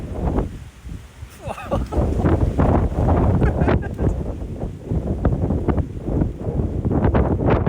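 Strong wind buffets the microphone outdoors, a loud, continuous roaring rumble that surges and eases throughout.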